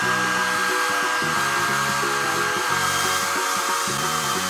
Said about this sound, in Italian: E mi asciugo i capelli con il phon.